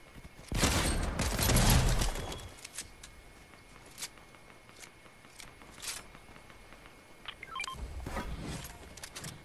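Pistol fire in a battle royale video game, a dense burst of shots early on, then scattered fainter cracks and clicks, with light talk under the game sounds.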